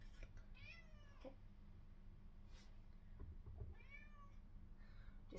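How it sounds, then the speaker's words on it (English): A cat meows twice, a drawn-out call near the start and another about three seconds later, quiet and close in an otherwise calm room. "There's a kitty awake."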